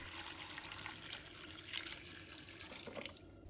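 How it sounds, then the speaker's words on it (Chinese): Water pours into a pot holding clams, sliced ginger and salt, a continuous splashing flow, close but fairly quiet, tapering slightly near the end. "倒入适量的清水"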